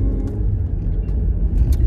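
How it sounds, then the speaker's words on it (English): A car passes on a road, its low rumbling engine and tire noise filling the short moment at close range with a steady, heavy hum. "let's be vigilant before we get hit by the car"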